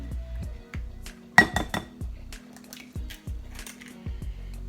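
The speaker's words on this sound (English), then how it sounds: "So we are going to whisk these eggs." Two eggs whisked in a bowl while making crispy fried okra: quick rhythmic clinks and taps of a utensil against the dish, repeated steadily and close, with no one talking.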